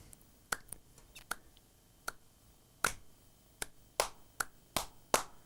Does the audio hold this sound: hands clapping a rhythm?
yes